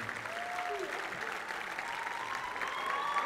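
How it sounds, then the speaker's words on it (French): A studio audience applauds a reggae artist on a music TV set, a continuous, fairly soft patter of many hands clapping at an even level throughout. "Vous pouvez l'applaudir encore plus fort que ça."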